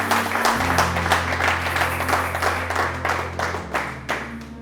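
A church congregation breaks into sustained applause, dense steady clapping from many hands filling the room over a held organ or keyboard chord.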